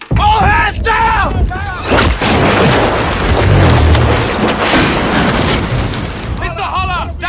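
Heavy naval cannon broadside from the film Master and Commander, a continuous rumbling roar of booming shots and crashing impacts at close range, with shouting voices at the start and end.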